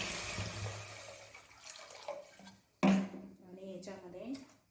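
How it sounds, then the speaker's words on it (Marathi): Water is poured into a pan of frying boiled potatoes, making a splashing gush that flares up sharply partway through, with a voice talking over it. "पाणी आपल्याला पाहिजे तेवढं पाणी घालून घेते"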